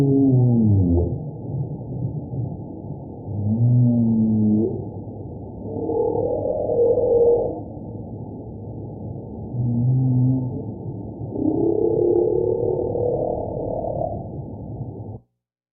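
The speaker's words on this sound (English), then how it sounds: "So that's an example of some humpback whale song." Humpback whale song in an underwater recording, with long moaning and rising tonal calls alternating with low grunts, sustained across the whole span without pause.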